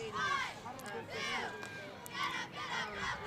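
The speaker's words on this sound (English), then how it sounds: "I hear a lot of chatter on the crowd mic" Crowd chatter in the stands at a high school football game between Fort Stockton and Alpine, with several excited voices shouting and calling out in bursts, moderately distant and fairly quiet.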